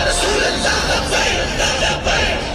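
A large crowd gathered to hear Saad Rizvi roars and chants in a dense, continuous wall of voices, loud and close with no gaps.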